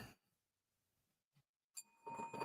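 A bright electronic bell chime sounds as a livestream super chat alert, ringing with sustained tones after a brief pause, with a bit of talk just before it.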